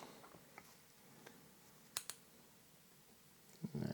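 Scissors snip through thread during fly tying for a pink and purple nymph: a few sharp, close clicks, with a pair near the middle and another snip toward the end, over quiet room background.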